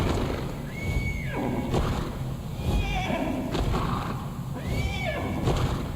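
A horse in the video game Ark Survival Ascended neighs twice. The two loud, ringing whinnies are a few seconds apart, and both are heard over noisy game ambience with some thumps.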